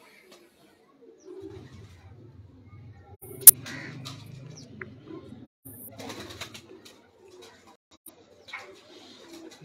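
Champion racing pigeons in a Punjab loft coo softly in low, rolling murmurs for several seconds, with a sharp click partway through and faint background noise.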